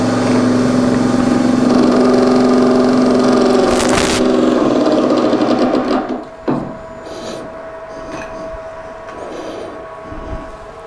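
A lathe spins a turned sphere held in a Vermec sphere jig during final polishing, a steady loud whir with a brief clunk near the middle before the motor winds down to a quieter hum.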